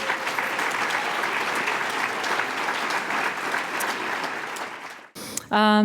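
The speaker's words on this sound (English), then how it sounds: "So let's just give them a round of applause for PEN." Audience at a PEN literary event in a library salon gives steady, full applause for several seconds; it cuts off and a voice begins speaking near the end.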